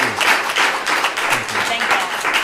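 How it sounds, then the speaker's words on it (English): Audience applause for the panelists at a voter ballot information event, a steady wash of clapping hands with some voices mixed in, sustained and moderately loud throughout. "join me in giving a big round of applause to our panelists"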